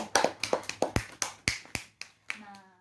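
A small school class claps for themselves in a classroom: about ten sharp, separate claps in a brisk, even rhythm, each ringing briefly, before a voice starts speaking at the very end.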